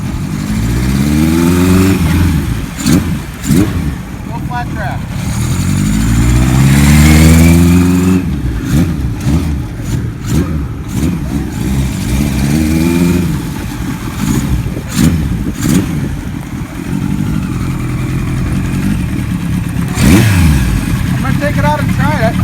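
A 1976 Kawasaki KZ900A motorcycle engine revs loudly while riding, repeatedly climbing in pitch through the gears with steady engine drone in between, close and dominant throughout.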